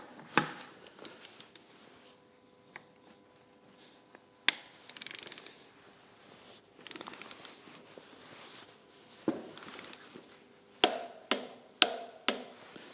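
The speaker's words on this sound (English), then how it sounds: "So now we put the bolts to torque, which in my case is 110 Newton meters." A torque wrench tightens the wheel bolts of a Formula Ford race car to 110 Newton meters, with scattered workshop knocks and then four sharp, evenly spaced clicks close by near the end.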